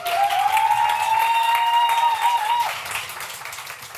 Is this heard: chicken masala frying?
no